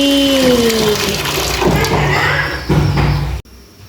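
Hot water pours into a cooking pot on a home stove, a loud gushing splash with a shifting tone that runs for over three seconds before cutting off abruptly.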